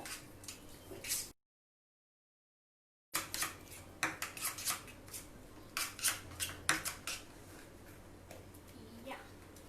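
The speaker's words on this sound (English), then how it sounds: "So mix seasoning, and we will just give it a mix." Spices being stirred together with a spoon in a bowl: garlic powder, cumin, oregano, rosemary and thyme for a stuffing, heard as a string of close metallic clinks and scrapes, briefly cut by a gap of silence.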